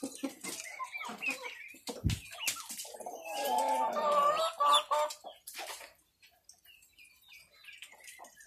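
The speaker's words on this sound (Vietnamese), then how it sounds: "Mấy con gà này nó đang ăn chuối, ăn cám, ăn chuối trộn cám của vịt các bạn này." Free-range chickens clucking and pecking while eating banana mixed with bran, close by in a farmyard, with a steady run of short clucks and calls that thin out near the end.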